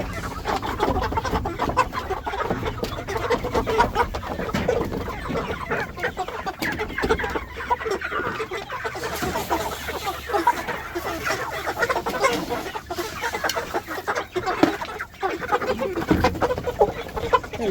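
Chickens cluck and squawk continuously close by, with a rooster among them, over a busy, noisy homestead farmyard background.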